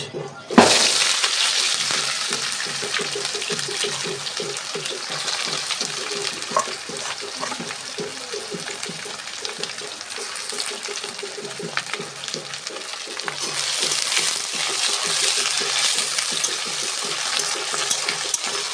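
Onions sizzle steadily in hot oil with sugar in a home kitchen pot while meat is being cooked, a dense continuous frying hiss with stirring scrapes, close and fairly loud throughout, no talking.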